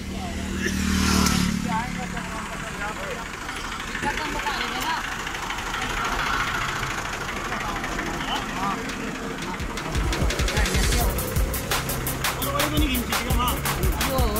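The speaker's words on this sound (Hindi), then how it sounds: "बड़ा जानदार ट्रैक्टर है रोटरी पंप।" A tractor with a rotary pump hauling a sugarcane-laden trolley stuck in mud, a continuous engine rumble and knock at a moderate distance, with someone talking over it and a harsher rattling burst near the end.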